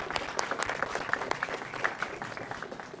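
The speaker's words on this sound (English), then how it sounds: "Let's give him a warm round of applause." Steady applause from an audience at a school grand opening, dense clapping throughout at a moderate distance, with no voices standing out.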